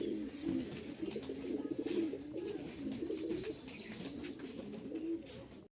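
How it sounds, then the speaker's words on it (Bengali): High-flying Giribaz pigeons coo continuously in low, rolling murmurs, several birds overlapping at moderate loudness with a faint background hiss. "হাই ফ্লাইং এর এক জোড়া কবুতর রাজশাহীর"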